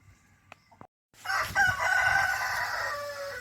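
A village rooster crows in the morning, one loud, near, drawn-out cock-a-doodle-doo following a few faint clicks and a short silence.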